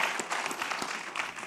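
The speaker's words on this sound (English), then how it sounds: "Y'all give her a round of applause." An audience at a Black History celebration claps in a brief, fairly quiet burst of scattered applause.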